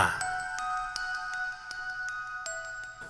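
A notification bell sound effect rings out in a short chime pattern, bright repeated dings with sustained tones, clear and close, heard alone with no talk.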